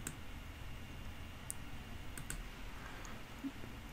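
A computer mouse clicking a few times, light and sparse, over a steady faint background hiss.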